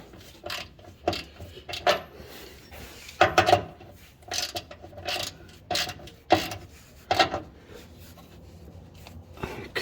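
Nissan Sentra torque rod bolts being snugged evenly by hand, with short repeated ratchet-like rasps and clicks in bursts, fairly close and moderately loud, no talking.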